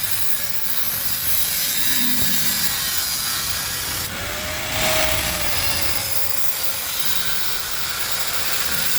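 A saw cuts through a Toyota Hilux door panel during a manual-to-power-window conversion, giving a continuous harsh rasping hiss close up that swells briefly midway and then carries on steadily.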